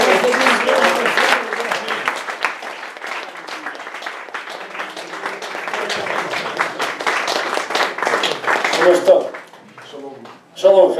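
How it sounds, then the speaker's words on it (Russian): A church congregation in Moscow breaks into applause after a prayer, a sustained dense round of clapping from many people that fades near the end as a voice begins. "Аплодисменты."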